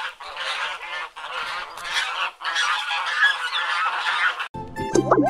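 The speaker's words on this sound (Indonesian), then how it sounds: "Hewan yang berawalan huruf B adalah bebek." Loud, nasal honking calls from ducks come in repeated bursts with brief gaps, ending with a short burst of bright electronic tones.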